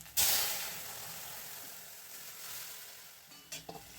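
Boiled vegetables for a neem leaf curry hit hot oil with a loud sudden sizzle that settles into steady frying hiss, followed by a couple of brief clatters near the end.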